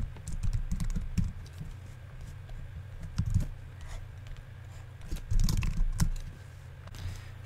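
Typing on a computer keyboard, with irregular bursts of close key clicks over a steady low hum, alone with no voices.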